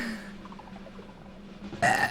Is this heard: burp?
yes